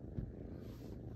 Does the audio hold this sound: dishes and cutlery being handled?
no